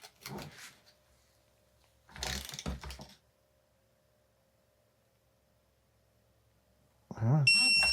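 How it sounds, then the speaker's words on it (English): A torque wrench with a 10 millimeter socket tightens bolts on the air side of a 2016 Fox Float 34 FIT4 fork, giving two short bursts of ratcheting clicks separated by silence, then a louder burst with a high electronic tone at the end. "Then we torque it 6 Newton meters with a 10 millimeter socket on the air side."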